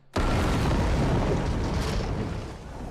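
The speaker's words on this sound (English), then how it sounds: "I was not expecting an explosion." A sudden, heavy explosion bursts from stacked casks in a fantasy TV drama, a sharp onset followed by a sustained, roaring, rumbling blast that slowly fades.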